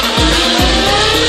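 A Formula One car at the Monaco street circuit roars loudly and close with sweeping engine pitch drops and tire squeal through the hairpin before the tunnel.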